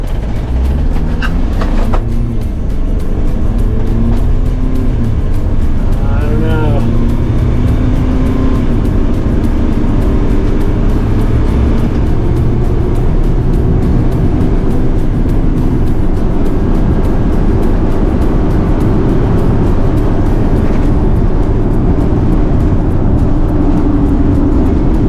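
A camper van, either a Ford Transit Trail or an AWD Mercedes Sprinter, accelerates at full throttle from a standing start, with a loud, continuous engine roar that climbs through gear changes and keeps pulling hard the whole way.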